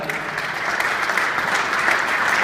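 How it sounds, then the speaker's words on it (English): A conference audience at a hemp industry keynote event gives a sustained round of applause, a dense wash of clapping from a large crowd filling the room, steady and unbroken. "Let's give him a round of applause for that."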